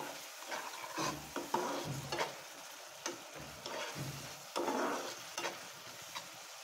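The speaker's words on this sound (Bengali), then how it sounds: "এখন আমি সুন্দর মতো মশলাটাকে কষিয়ে নেব।" Spice paste of mustard, green chili, onion, garlic, ginger and salt is stirred and fried in a pan for a pabda fish curry with lemon leaves: soft scraping strokes and a low sizzle, close but quiet, with no talking.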